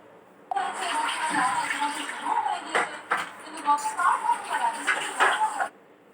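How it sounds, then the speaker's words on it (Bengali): Fish squeezed and rinsed by hand in water inside a cooking pot, a close steady splashing and sloshing with gurgles and a few clanks, running for several seconds before stopping abruptly. "মাছটা আমি ভালো করে চটকে চটকে ধুয়ে নিচ্ছি শিঙির মধ্যে"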